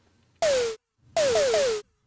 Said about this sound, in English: Now we are going to add a noise oscillator.